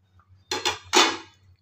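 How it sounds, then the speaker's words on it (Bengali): A metal lid lifted off a cooking pot of sweet potato after simmering, making two quick clanks and a scraping metallic clatter, close and loud against a quiet low hum. "ঢাকনাটা আমি খুলে দেখে নেব।"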